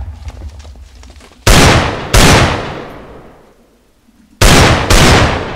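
High-explosive blasts in Minecraft: three loud, sharp booms, the first standing alone and two more coming close together near the end, each with a long decaying rumble over a quiet game background.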